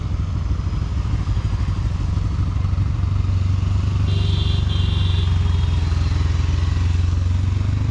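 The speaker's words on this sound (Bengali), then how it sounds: "দেখেন বাইকগুলো সব নামতেছে এখান দিয়ে" Several motorcycles roll down a slope one after another, their engines a steady close drone that fills the whole stretch without breaks.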